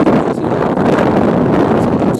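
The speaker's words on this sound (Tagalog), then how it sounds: "Ang lakas kasi ng hangin" Strong gusting wind buffeting the microphone, a loud rumbling roar that surges and eases without pause; no speech.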